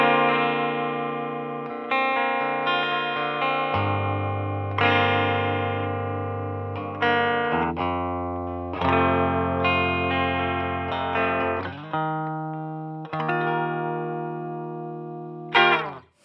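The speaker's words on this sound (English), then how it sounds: "this is the sound of the guitar straight into the amp." Clean semi-hollow electric guitar played straight into the amp without effects, strummed chords ringing out and decaying one after another, close and clear with no talking.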